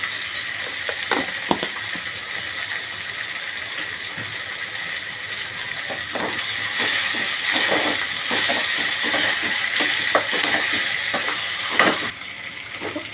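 Onions sauté with salt in a pan for a simple home-style sambar: a steady, close sizzling hiss runs throughout, with intermittent scraping and stirring clicks, and quiets near the end.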